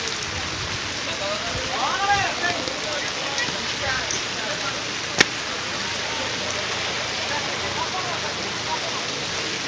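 Heavy rain pours steadily on a road in Ghatagaon, Keonjhar District, a dense continuous hiss filling the whole stretch, with a brief sharp knock partway through and faint voices in the background.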